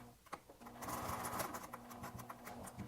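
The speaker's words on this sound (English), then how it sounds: "we're going to forward and back stitch to begin" A sewing machine stitches a small fabric heart, running forward and then back in a steady, rapid mechanical whir with close clicking, fairly quiet and without speech.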